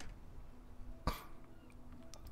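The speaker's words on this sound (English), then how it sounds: "You hear a man clearing his throat briskly" A man's single brisk throat-clear cuts sharply through quiet background hum, close and clear, in the video game Disco Elysium.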